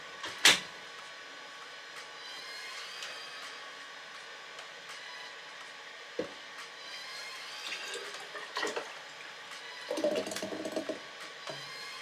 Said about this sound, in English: for our mason jar, you just pour the rest from in here that's in here.